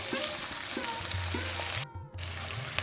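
Steady loud sizzle of vegetables and carrots frying in a pan for street-style chowmein, continuous throughout with a brief dip as the pan is stirred or tossed.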